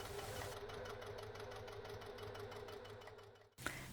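A sewing machine basting mesh onto backpack fabric, running in a steady rhythmic hum and stitch pulse, fairly quiet and close, stopping abruptly just before the end.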